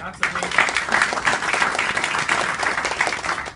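Audience applause at a humorous speech contest, a dense, steady burst of many hands clapping that starts abruptly and carries on loud throughout, with crowd noise mixed in.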